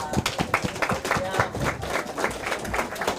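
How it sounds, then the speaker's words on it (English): Audience applause at a Splatsin winter feast, a dense steady patter of many hands clapping throughout with some crowd murmur mixed in. "So a big round of applause for them."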